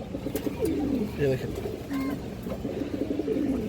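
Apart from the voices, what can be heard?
female pigeon cooing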